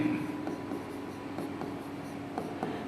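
Handwriting with a pen or marker during a twelfth-grade physics lesson on electric charge: faint, soft scratching strokes come in short irregular bursts over a low steady room hum.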